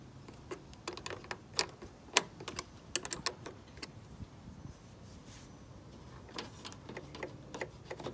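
A 10 mm open-end wrench works the ground terminal of a car battery, giving quiet, close metallic ticks and clicks in an irregular run, sometimes in small clusters.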